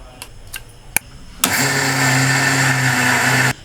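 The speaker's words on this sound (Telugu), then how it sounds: "పప్పు మిక్సీ పట్టేటప్పుడు ఈ అటుకులు కూడా అందులో వేసేసి మిక్సీ పట్టేయాలి" A kitchen mixer grinder whirs steadily for about two seconds as it grinds soaked lentils with flattened rice for millet dosa batter, starting abruptly after a few small clicks and cutting off sharply.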